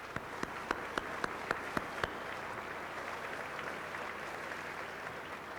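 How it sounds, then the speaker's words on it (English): A few sharp, evenly spaced claps stand out near the front over a soft bed of applause from an audience at an award ceremony honoring Fred DeBona, and the sound then fades into a quieter, fainter patter. "I'd like to give you just a real quick round of applause right now"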